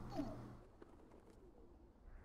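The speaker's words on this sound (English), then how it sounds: "Right, the birds." Birds coo in the video game Hyper Light Drifter, with one short, faint dove-like coo near the start over quiet game ambience. The coo comes once and then fades.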